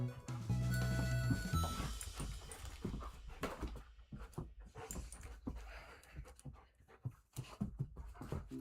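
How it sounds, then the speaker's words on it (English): A dog pants heavily in rapid, breathy bursts close by, continuing steadily through the whole stretch with some varying loudness and a few soft whimpers. "Can you hear his heavy panting?"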